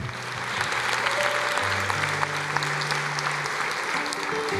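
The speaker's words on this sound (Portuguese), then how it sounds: "Vamos aplaudir o Senhor" A church congregation at a Portuguese-language service claps together in a steady, fairly loud wash, with sustained musical tones ringing underneath.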